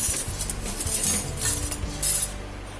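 Spoonfuls of sugar added to water warming in a pot, heard as a series of close metallic clinks and scrapes from a spoon against the pot rim, three or four distinct taps with quiet stirring between.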